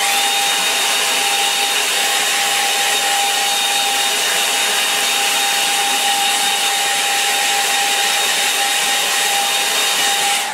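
A hair dryer blows loud and close in a steady, unbroken whoosh with a constant motor whine, running alone for the whole stretch.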